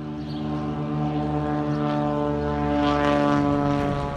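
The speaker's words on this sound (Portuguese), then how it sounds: "O monomotor vai lutando para ganhar altura." A single-engine propeller plane takes off and climbs over the Peruvian desert, its steady, loud engine drone holding a constant harmonic hum that swells slightly as it gains altitude, with no talk.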